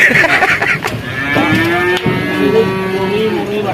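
A water buffalo at a weekly livestock market gives a long, deep, close moo that carries over a muffled background, with no clear speech.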